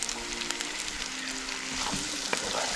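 Chopped small shallots fry with ginger and garlic in a pan, giving a dense, steady sizzle with light stirring scrapes and no speech over it.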